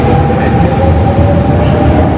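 A loud, steady rumble of an RER commuter train from Disneyland Paris in motion, with a droning hum and rolling rail noise heard from inside the carriage.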